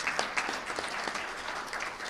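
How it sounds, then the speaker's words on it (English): A round of applause at a breakfast event with Governor Hochul, steady dense clapping from an audience that holds at a moderate level throughout the short stretch. "Let's give them a round of applause as well"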